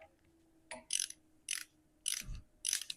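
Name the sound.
ratchet snugging up differential bolts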